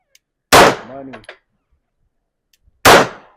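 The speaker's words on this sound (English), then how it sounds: "Slowly press the trigger now. Let the gun surprise you." Two loud, sharp pistol gunshots at an outdoor shooting range, spaced a couple of seconds apart, each ringing out briefly, with a short spoken phrase between them.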